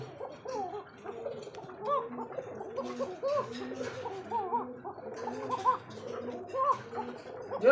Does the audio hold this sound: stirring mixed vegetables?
no